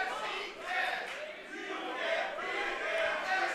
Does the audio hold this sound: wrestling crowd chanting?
yes